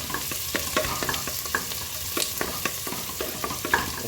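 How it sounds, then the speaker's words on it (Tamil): Chopped onions sauté in hot oil for biryani, giving a steady close-up sizzle broken by regular scraping and clinking as a spoon stirs them around the pan. "வெங்காயம் நல்லா வதங்கிடுச்சு."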